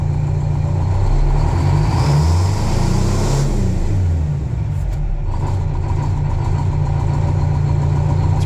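A shop truck's engine runs steadily at close range, a loud low idle with a brief rise and fall in revs partway through, and no talk over it.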